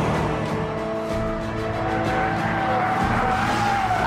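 A Chevrolet Camaro SS muscle car oversteers, its engine droning loud and close while the tyres squeal in a rising, wavering screech through the turn.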